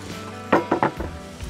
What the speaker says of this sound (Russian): Две сосиски, нарезанные колечками, тоже обжариваем вместе с луком.